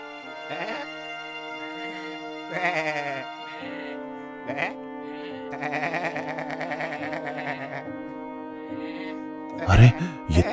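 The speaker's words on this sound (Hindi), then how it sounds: "अरे ये तो बकरी के चिल्लाने की आवाज है" A goat bleats several times in wavering, nasal cries over a steady musical drone, ending with a louder burst.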